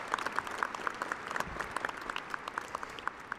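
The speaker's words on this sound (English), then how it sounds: "How about a round of applause for Josh and Brent?" Applause at a spring commencement ceremony for doctoral and master's degrees, a steady crowd ovation with distinct sharp claps standing out over a softer background of many hands.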